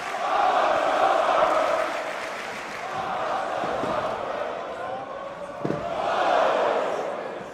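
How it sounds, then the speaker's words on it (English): Wrestling arena crowd during a Ricochet versus Will Ospreay match, a loud roar that rises and falls in swells, with a few sharp thuds from the ring and a commentator talking over it. "And the crowd letting you know how they feel about the top rope."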